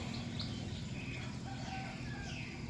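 A neighbour's chickens cluck in a rural village yard during a tropical storm, soft scattered calls over steady background noise with wind, fairly distant.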